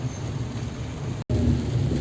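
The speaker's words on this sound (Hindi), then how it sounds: "बारिश हो रही है" Steady rain pours down outdoors in a hilly village on a cold day, a dense, even hiss with a low rumble underneath and a momentary cut in the middle, with no voices.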